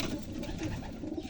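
Pigeons coo in a loft, with low, rolling calls that overlap at close range throughout and no voices.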